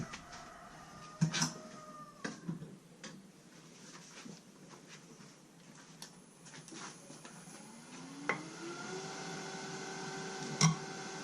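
A wood lathe turns a beginner's basic bowl during a cleanup cut, the tool scraping with a steady low rumble and a rising whir, broken by sharp ticks and a few louder knocks.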